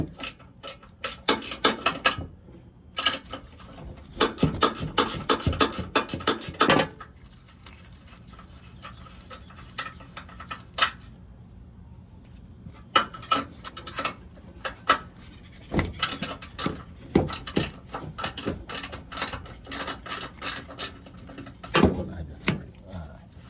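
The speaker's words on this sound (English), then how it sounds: "remove these three nuts here with a 14mm ratcheting wrench" Ratcheting 14mm wrench clicking in repeated bursts while loosening three tight nuts on a 2021 Toyota Tundra bumper mount, close and fairly loud, with quiet pauses between the runs of rapid clicks.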